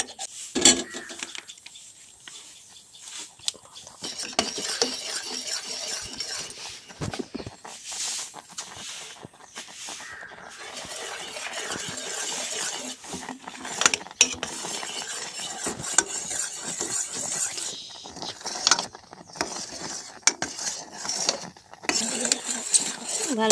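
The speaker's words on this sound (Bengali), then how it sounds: "মিশ্রণটিকে মিশিয়ে দেবো ভালো করে।" Spoon stirring a chhena and milk powder mixture in a pan for a sandesh sweet, with continuous scraping and clinking, some soft sizzling, close and uneven in loudness throughout.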